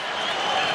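An NBA arena crowd at a Lakers versus Oklahoma City Thunder game cheers and claps in a brief, steady wash of distant noise, with a commentator's voice faintly mixed in.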